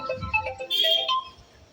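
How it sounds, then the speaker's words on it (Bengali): A phone's electronic ringtone plays a short melodic run of tones, fairly faint, with no one talking. "কে ফোন করলো সকাল থেকে এই নিয়ে দশ বার ফোন আসলো"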